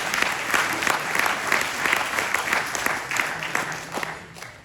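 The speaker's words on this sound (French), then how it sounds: "Je crois qu'on peut applaudir, hein, bravo" Crowd at the official presentation of the 2024 French Enduro Championship round in Langeac applauding the volunteers, a full, even burst of many hands clapping with no break, close and fairly loud.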